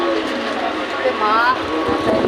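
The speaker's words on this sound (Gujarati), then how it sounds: "ટ્રેન નીકળી ગઈ છે" A steady, loud rumble and rattle of a moving train fills the clip, heard from inside a nearly empty coach, with voices murmuring faintly beneath the noise.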